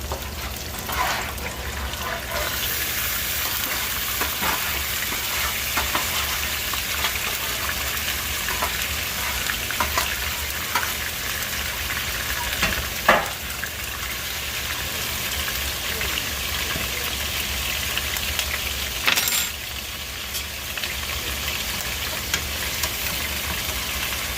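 Teriyaki glaze sizzles and bubbles against salmon in a hot pan, a steady, close frying hiss with occasional spatters and clicks throughout.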